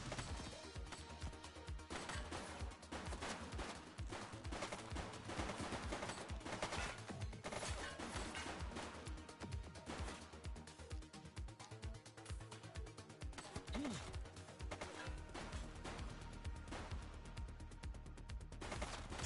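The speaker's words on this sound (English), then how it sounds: "He's shooting!" A shooting suspect's gunfire crackles in a continuous dense burst of rapid shots and impacts, loud and sustained, with no clear talk.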